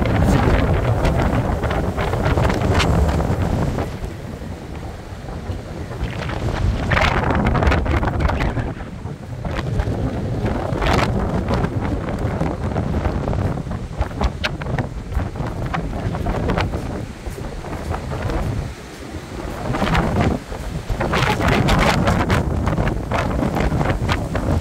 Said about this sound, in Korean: 바람이 너무 많이 불어요.